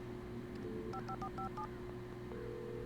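Quick series of video game telephone keypad tones, about six short beeps in a rhythmic sequence, heard faintly over a low electronic hum.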